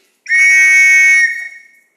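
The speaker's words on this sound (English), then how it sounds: "this is the Metropolitan whistle" A long Metropolitan Police whistle is blown once in a single shrill, steady blast lasting about a second, close and loud, then quickly fading.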